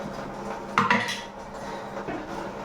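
Dishes are being washed in a home kitchen, with soft, close clinks and clatters of plates and utensils over a faint background hum, including one brief louder knock.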